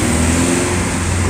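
An old car engine with a bad muffler revs loudly and close, a rough, throaty drone sustained through the whole short burst.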